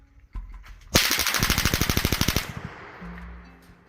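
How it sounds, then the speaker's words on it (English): A belt-fed FN MAG general-purpose machine gun fires a single rapid burst of about fifteen loud, evenly spaced shots at steel targets roughly 200 meters away, then stops and leaves a brief ringing tail. "we were shooting at about 200 meters with the FN mag, just shooting at normal steel"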